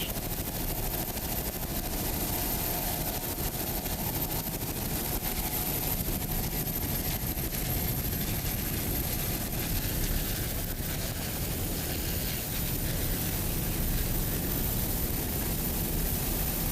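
Twin 500-horsepower Mercury inboard engines drive a 36-foot Skater powerboat at a powerboat racing championship, a dense, unbroken roar and rush of wind and water that holds steady for about seventeen seconds.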